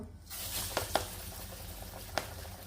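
Onion fritters (piyaju) frying in hot oil: a constant close sizzle and hiss with a few sharp pops and crackles.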